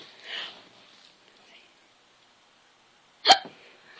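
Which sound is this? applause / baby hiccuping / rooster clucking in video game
baby hiccuping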